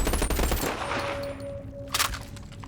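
Rapid automatic fire from the BAL-27 assault rifle in the VR game BONELAB rattles loudly and close in a fast burst, then trails off, with a short extra shot near the end.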